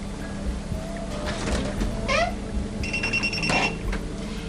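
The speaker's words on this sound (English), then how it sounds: "Hear the beeping sounds" Electronic beeps from a spa treatment machine with its hood open ring out in a quick repeated pattern over a steady low machine hum, fairly close and clear.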